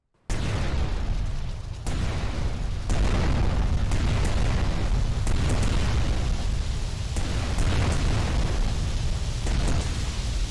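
Bombs going off in a factory in GTA: Vice City, a dense run of loud, booming explosions with repeated sharp bursts layered over continuous roaring debris noise.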